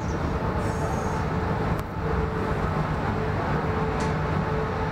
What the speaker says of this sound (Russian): На пути подходит тот самый поезд.